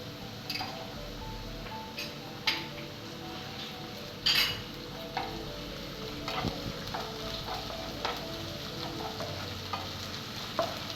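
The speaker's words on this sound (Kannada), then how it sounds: "ಆನಿಯನ್ ಫ್ರೈ ಆಗ್ತಾ ಇದೆ" Onion and ginger garlic paste frying in hot oil for homemade egg rice: a steady sizzle runs throughout, broken by scattered clinks and scrapes of a spoon stirring the pan.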